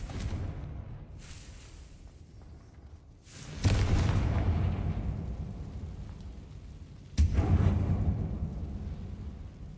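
Two deep booming blasts from the Confringo explosion spell in the video game Hogwarts Legacy, each a sudden loud burst followed by a rumbling tail, over a low ambient game backdrop.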